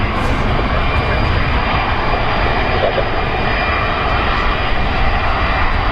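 A jet airliner departing London Heathrow gives a steady, loud, broad engine roar that holds without letup.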